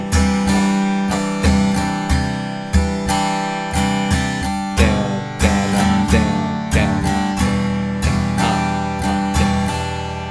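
Acoustic guitar strums chords from the third line of a song, a steady run of bright strokes in a repeating down-up pattern, close and full, with no voice.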